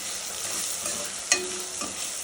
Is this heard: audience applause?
no